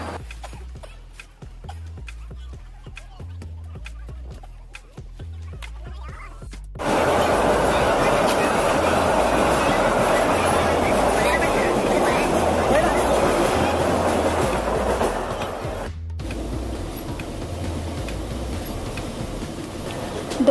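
Train and crowd noise at a busy railway station in India early in the morning, a loud broad rumble of rail travel that starts abruptly and stays steady, following quieter rhythmic clicking, with no clear speech.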